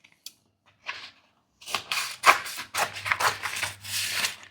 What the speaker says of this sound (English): Next, I'll cut these out with my scissors.